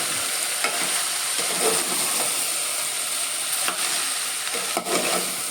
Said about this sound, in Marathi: आता हे तांदूळ आपण व्यवस्थित परतून घ्यायचे आहेत